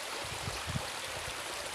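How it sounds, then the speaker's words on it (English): Spring water flows steadily at a village spot where locals fetch drinking water, a soft, continuous stream with faint gurgles. "So this way we have spring water."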